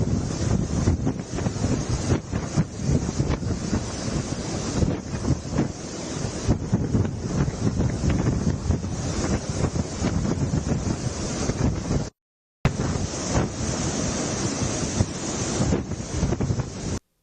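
Strong cyclone winds roar and waves crash along the Andhra coast as Cyclone Montha makes landfall, a loud continuous gusting and surf wash with a brief cut near the end and no voices.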